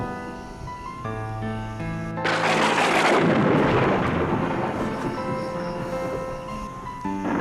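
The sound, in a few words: thunder from a thunderstorm outside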